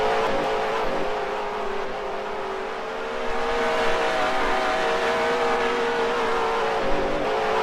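Dirt race cars in Second Life drone and rev continuously as a pack, steady engine whine with slight rises and falls in pitch, moderately loud and unbroken, with no talk.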